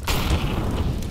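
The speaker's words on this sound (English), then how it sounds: "Throwing flashbang." A flashbang grenade goes off in the video game CS:GO, a single loud, close boom with a sharp onset that rings on briefly before fading.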